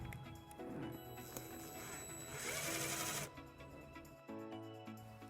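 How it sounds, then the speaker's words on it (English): A power driver spins a self-tapping screw into the metal body of a 2014 Jeep Compass, a short whirring burst that rises to a louder grinding buzz, then stops and briefly resumes, close but fairly quiet. "We're going to attach this to the body of the vehicle using our provided self-tapping screw."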